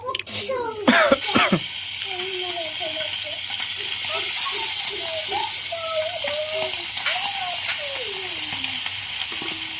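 Young hilsa fish frying in hot oil with onion, a constant loud sizzle and spluttering as the pan is stirred, while voices talk over it.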